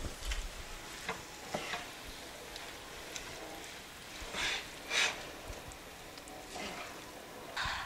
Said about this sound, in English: So I've got about 5 ounces of cream cheese that we're just going to start stirring in here.